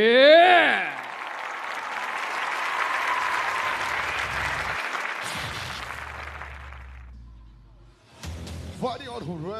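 An arena crowd applauds loudly as fighter Gao Junyu, the Chinese competitor, walks out at a Wu Lin Feng featherweight MMA event. The clapping is steady, starts right after a brief voice, then fades before a short burst of speech near the end.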